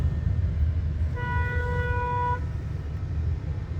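A single steady car horn blast lasting about a second sounds over a constant low rumble of traffic in Hanoi, Vietnam.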